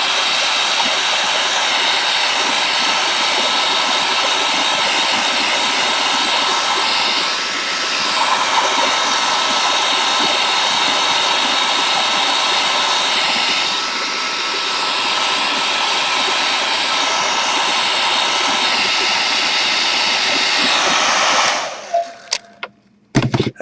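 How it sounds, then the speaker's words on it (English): A heat gun blows hot air at close range in a steady, loud rushing whine that holds for about twenty seconds, dips slightly twice, then cuts off with a few clicks and handling knocks at the end. "Then I need to hit this with my heat gun"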